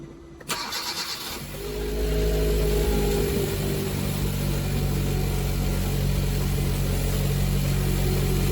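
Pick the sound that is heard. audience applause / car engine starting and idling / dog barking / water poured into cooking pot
car engine starting and idling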